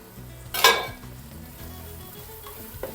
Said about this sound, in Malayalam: പച്ചമുളക് ഉള്ളി ഒന്ന് വാടി കിട്ടട്ടെ.